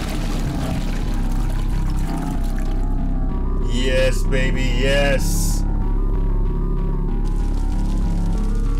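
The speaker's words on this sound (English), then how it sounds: "Taking a nice shower." A shower runs in the horror video game The Happy Hills Homicide, a steady, pouring hiss of water throughout, with a person talking briefly over it.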